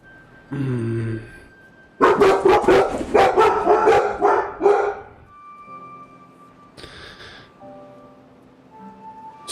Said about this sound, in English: So my dogs are idiots.